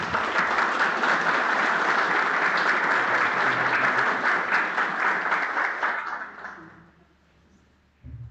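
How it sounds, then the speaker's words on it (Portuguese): People at a municipal council session in Tijucas do Sul applaud their champion with sustained, busy clapping for about six seconds. It then fades to near silence before a brief low noise returns at the very end. "uma salva de palmas para o nosso campeão."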